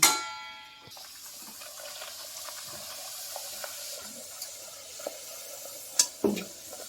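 Pea-stuffed kachori fry in hot oil, a steady bubbling sizzle running throughout, broken by a bright metallic clang at the start and sharper utensil knocks and scrapes near the end.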